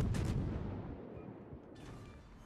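Heavy naval gunfire in a warship battle video game: a single deep, booming blast that rolls and fades over a couple of seconds, loud and close.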